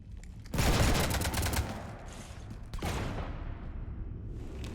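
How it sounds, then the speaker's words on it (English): Loud bursts of rapid gunfire from the video game Mass Effect 3 Legendary Edition, a heavy volley at first, then a pause and a second sustained burst, all close and with no talk over it. "You want to stop shooting up my ship?"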